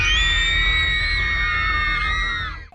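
Many children scream loudly and continuously together as they arrive at a summer camp by bus in a 1984-set horror series, a dense sustained shrieking chorus that fades out at the end.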